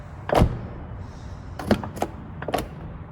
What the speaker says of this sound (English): It has soft closing doors.